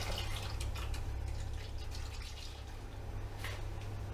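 Homemade wine is poured in a garage winery and splashed to aerate it, giving a steady, frothy rush of liquid with a few brighter drips and splashes close by.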